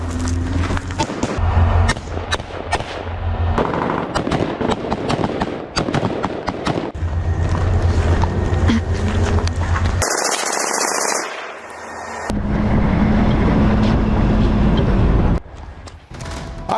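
Bursts of gunfire and explosive blasts ring out during an IDF ground operation in Lebanon, with dense, rapid cracks through much of the passage, a quieter hissing lull partway, then heavy rumbling again.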